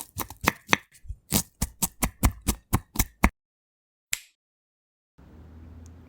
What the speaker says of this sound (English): Roughly chop the onion into thin slices.